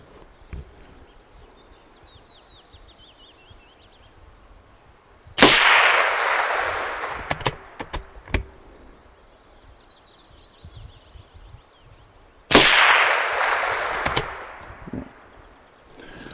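Two sharp Tikka T1X .22LR rifle shots firing CCI Stinger cartridges ring out outdoors several seconds apart, each loud crack trailing into a long echoing decay, with faint birdsong between them.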